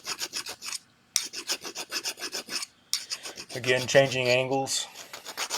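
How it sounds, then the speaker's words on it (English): Hand file rasping across a coin ring in quick strokes, a short pause, then more steady close-up scraping ending in a denser ringing stretch; a brief voice speaks over part of it. "I'm going to use the file to remove those marks."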